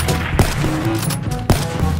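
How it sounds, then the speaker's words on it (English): Rapid bursts of automatic gunfire in the Black Ops 3 shooter, loud, close crackling shots with a couple of sharper peaks over a dense game soundscape. "Oh, you're already shooting at him."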